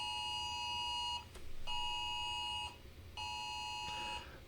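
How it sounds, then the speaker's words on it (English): The skeleton monster noise in the 1985 Commodore 64 game Bard's Tale is a buzzy, synthetic electronic tone. It sounds three times as long, steady blasts, each about a second or more, separated by short gaps with a faint click between them. "That's the noise skeletons make."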